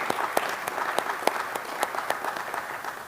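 An audience at a school district's State of the Schools address gives a round of applause, a moderate room-filling patter with distinct sharper claps popping out of the steady clatter.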